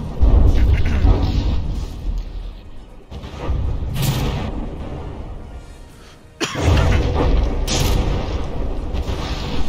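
Heavy shells striking a battleship's deck in From the Depths, deep rumbling impacts and crashing booms arriving in several waves, with one sharp cutoff before another loud barrage begins.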